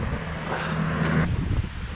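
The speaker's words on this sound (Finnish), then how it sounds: "mutta tuolta päin tuulee" Wind blows steadily across an open outdoor spot in Romania ahead of a storm, a loud continuous rushing roar buffeting the microphone, with no voices.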